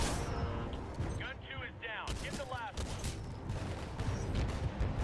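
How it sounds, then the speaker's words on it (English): Gunfire rattles through a Titanfall 2 firefight in rapid, dense volleys of shots. Loud character voices come through in the middle of the exchange. "shot that guy in the mouth 4 times"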